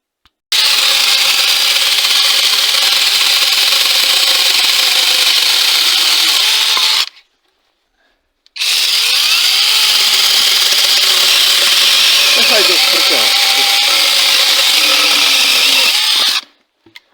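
Two long, loud bursts of a small cordless mini chainsaw cutting wood, a steady buzzing rasp with a brief pause between them, close by.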